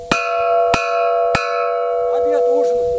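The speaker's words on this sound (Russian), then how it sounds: "Это один из колоколов, который бьют дети." A bell struck by children at a village in Poteryaevka, three clear ringing strokes about half a second apart, each leaving a long sustained tone, followed by faint voices in the background.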